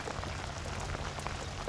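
Steady rain pours at an outdoor duck hunt in the Texas bayou, a dense, loud, continuous patter of drops hitting surfaces all around with no break.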